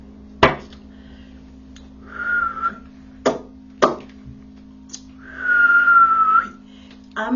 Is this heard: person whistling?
yes